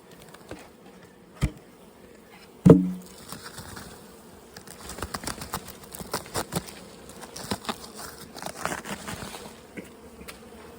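Honey bees buzzing softly in an opened hive with few bees inside, a thin, fluttering drone rising and falling, broken by two sharp knocks early on and scattered light ticks and taps.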